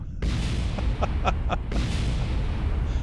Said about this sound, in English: All these explosions of things after I ripped off my main engines.